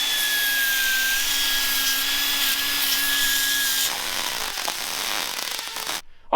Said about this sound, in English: I have to go through and just finish grinding some of the stuff up